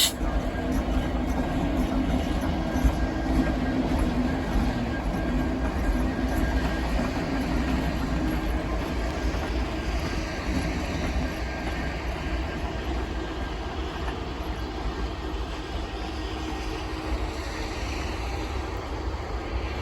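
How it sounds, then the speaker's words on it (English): A steady low diesel rumble with rail noise drones on for the whole stretch, like two SD70 diesel locomotives moving slowly nearby, with no clear talk. "the two SD-70s head back to their train"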